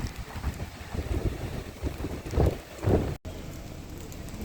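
Rainstorm with strong wind at a seaside campsite in Port Dickson; steady rain and gusty wind buffeting the microphone in waves, loud and close, briefly cutting out, no voices.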